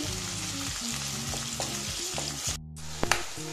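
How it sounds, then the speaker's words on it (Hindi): Chopped onion and green chilli sauté in a pan with a continuous crackling sizzle, steady and close, joined by a low hum. The sound cuts out briefly near the end, then a couple of sharp clinks follow. "कटा हुआ प्याज, हरा मिर्च डालेंगे। इसे हम हल्का सौते करते हैं।"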